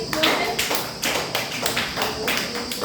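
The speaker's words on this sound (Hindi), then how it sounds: "ताली बजाएं भाई।" A group of people at an ICDS children's session clapping hands in a slow, regular rhythm, about five or six distinct loud claps close by, with a voice faintly present underneath.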